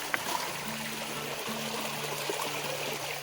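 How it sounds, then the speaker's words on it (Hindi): A small mountain rivulet in the hills flows with a soft, steady trickling rush. The sound is fairly quiet and continuous, with a faint low hum running underneath and no speech. "तो इस छोटी सी नदी में आजकल पानी है,"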